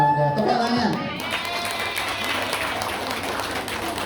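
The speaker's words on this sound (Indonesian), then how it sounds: "Tepuk tangan." A mosque audience at Masjid Amar breaks into applause, a brief burst of scattered clapping from a moderate-sized crowd that follows an amplified voice and fades into a soft, steady patter.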